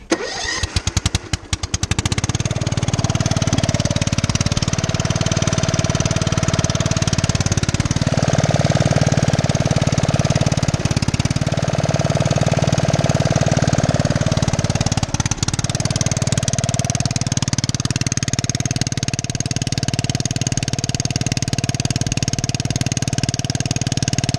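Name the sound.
car engine running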